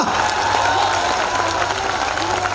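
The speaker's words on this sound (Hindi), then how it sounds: "एक बार दोनों हाथ उठा के तालियां बजाइए।" A crowd at a Hindi poetry recitation claps along loudly and continuously, a dense, steady roar of many hands close by, with some voices mixed into the noise.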